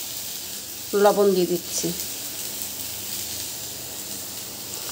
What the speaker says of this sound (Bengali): প্রথমে আমি কড়াইয়ে ভেন্ডিটা দিয়ে দিলাম, কাঁচা লঙ্কাটাও আমি দিয়ে দিলাম